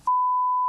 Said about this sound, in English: This beeping noise was actually just the low battery sound from the smoke detectors in the Turpin's home.